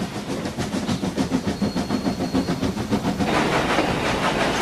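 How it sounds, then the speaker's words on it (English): A toy wooden-railway steam engine chuffs in a steady, rapid rhythm as it pulls a passenger carriage, loud and close with a hissy edge and no voices. "You can tell it's a steam engine from the steam chuffing from the funnel on the boiler."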